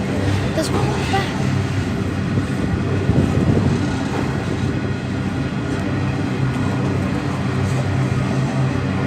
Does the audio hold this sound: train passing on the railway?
yes